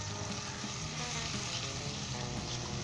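Urad dal frying in oil with turmeric, salt and cumin, giving a steady, dense sizzle that sits close and even throughout, with no voices.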